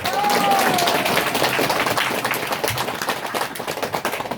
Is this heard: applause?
yes